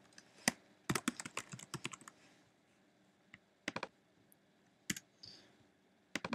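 Typing on a computer keyboard while entering words for a logo design, heard as bursts of crisp key clicks in quick clusters, with pauses between short runs, close and fairly quiet with no talk.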